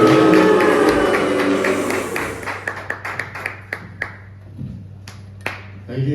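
Comedy club audience in Lethbridge, Alberta, with a small crowd giving sparse applause: scattered claps and taps that thin into a few separate claps, heard as music fades out.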